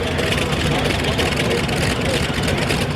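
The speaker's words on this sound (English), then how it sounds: "This is a radial engine." Radial engine on a pulling tractor at a tractor pull, running with a dense, loud rumbling roar that holds steady for a few seconds, with talk faintly underneath.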